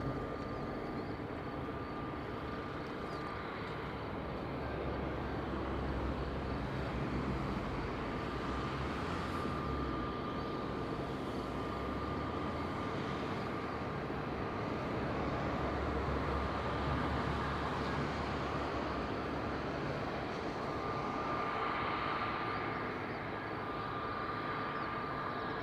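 A Condor airliner is landing at Madeira Island Airport on runway 05, its jet roar held steady and broad throughout, loud and continuous with no talk over it.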